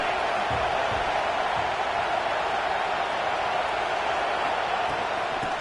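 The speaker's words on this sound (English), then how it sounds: "this crowd is fired up. Listen to this noise here." Stadium crowd roaring at a USC at Texas A&M college football game, a dense, steady wall of cheering and shouting that holds loud and unbroken throughout.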